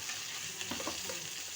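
Ivy gourd (kovakkai) sautéing in a pan, heard up close as a steady, dense sizzle with a few soft stirring scrapes, and no one speaking.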